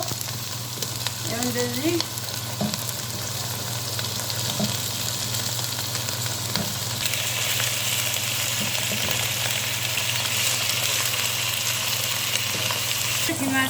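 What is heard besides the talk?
chicken frying and sizzling in a pan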